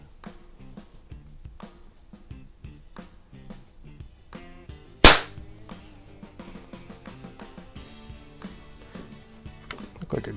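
A single sharp, loud crack of a .177 air pellet pistol, a BSA Scorpion or Ampell Acro 1, fired once midway through a quiet stretch with faint background sounds.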